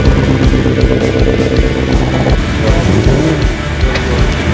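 A Ford Mustang engine gathering at a National Mustang Day event gives a loud, close, steady low rumble that fills the whole stretch, with a slight change in pitch partway through and no speech.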